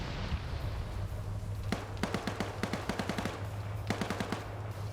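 Rapid bursts of gunfire crackle through a large 230-player PvP video game battle, short clustered volleys of shots over a constant low rumble, moderately distant and with no talk.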